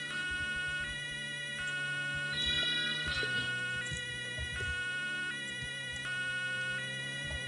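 A police car siren wails nearby in a repeating two-tone pattern, alternating high and low pitches steadily, loud and clear with a brief warble midway and no talking over it.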